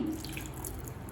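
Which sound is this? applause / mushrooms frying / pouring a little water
pouring a little water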